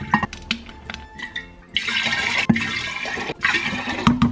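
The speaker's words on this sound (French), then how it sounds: "Contenant d'au moins 2 litres, on met 4 tasses d'eau froide et la petite bouteille ici." Cold water is poured into a container holding at least two litres, a steady splashing rush that starts partway through and stops briefly before resuming, close by with no talking.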